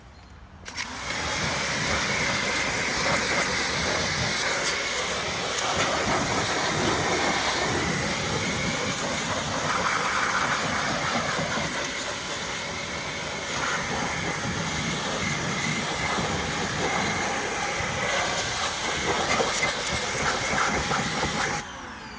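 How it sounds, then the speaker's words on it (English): A RYOBI 1.8 GPM electric automotive pressure washer blasts a car wheel through a 15-degree nozzle, giving a loud, steady, close hiss of spraying water that runs almost unbroken for about twenty seconds with no talking. "For the wheels, I like to use the 15 degree because this is totally safe."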